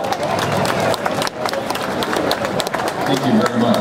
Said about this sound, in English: Give a big round of applause, guys.